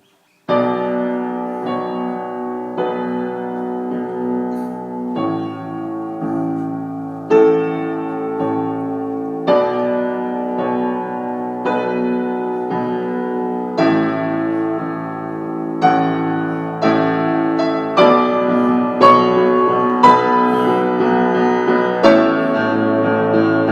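A solo piano plays a flowing melody from the Skyrim main theme over sustained chords, notes overlapping and ringing out at a moderate pace, close and clear.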